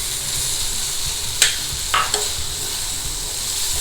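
Chopped ivy gourd being stirred into softened onion and tomato in a hot pan, a steady sizzle with a few sharp scraping clatters from the spoon against the pan.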